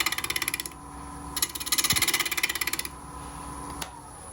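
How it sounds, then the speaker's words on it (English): A wood lathe spins a workpiece close by, giving a rapid rhythmic chatter that rises and falls in loudness in short bursts, with a brief tonal squeal near the middle and no voices. "Stop the lathe."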